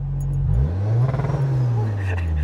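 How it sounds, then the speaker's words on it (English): Rotrex-supercharged Mazda Miata engine revved in neutral up to around 5,000 rpm: a strong close rising rev with a wavering low engine tone that settles back toward idle, alone with no talk over it. "if you put into neutral right now, right, and then rev to like 5 grand"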